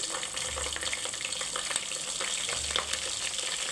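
Green chillies and onions fry and sizzle in hot oil for Hyderabadi bagara rice, a steady crackling hiss with occasional stirring scrapes, close and continuous with no talk.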